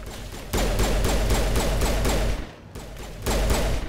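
Sustained bursts of rapid gunfire from a squad firefight in Mass Effect Legendary Edition, loud and dense, with one volley dropping away briefly before another starts up.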